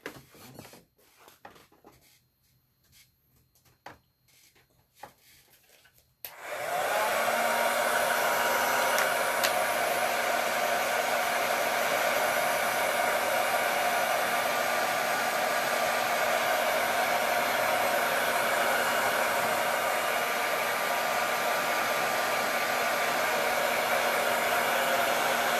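A hair dryer switches on after a few seconds of quiet handling sounds and then runs with a steady, loud, close whoosh and whine, drying freshly cleaned transfers.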